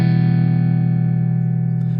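A sustained electric guitar chord from UJAM Virtual Guitarist Cinedream played through the grittier Voltage amp, sounding loud, steady and slightly distorted, ringing alone for about two seconds.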